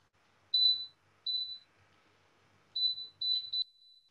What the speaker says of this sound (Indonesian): Kita bunyinya adalah bunyi bip 5 kali.